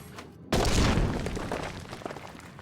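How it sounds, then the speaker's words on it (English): Rocks blown apart with fire sand in Final Fantasy XIV: a sudden loud blast after a brief quiet gap, then a crumbling, rumbling debris tail that fades slowly. "Now I can blow up the rocks."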